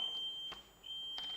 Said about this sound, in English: we do a quick check of the buzzers for the six of them